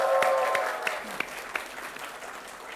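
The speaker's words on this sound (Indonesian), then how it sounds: "tepuk tangan untuk ketiga dewan juri kita pada hari ini" An audience applauds three judges on a televised quiz competition, clapping moderately loud at first and thinning to scattered claps; a voice briefly speaks over the start.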